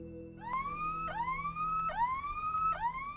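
Wailing ambulance siren on a vehicle driving at night through rough terrain toward a small village in Madhya Pradesh, India, repeating rising sweeps about every second, fairly close and clear over faint road rumble.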